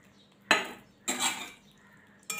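Spoon scraping and stirring soaked mustard paste into a pot of watermelon rind curry, three short, close scraping strokes separated by quiet gaps.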